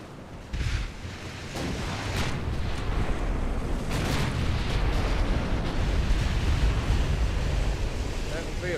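Naval gun battle in Ultimate Admiral Dreadnoughts, with a continuous roar of cannon fire and distant booming blasts layered over rushing sea and wind noise, steady and dense throughout.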